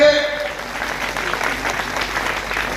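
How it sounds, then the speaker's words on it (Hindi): Crowd at a political rally in Gorakhpur claps to welcome a guest, a dense burst of applause that tapers slightly, with a voice over a loudspeaker at the start. "जोरदार ताली बजा करके स्वागत करिए"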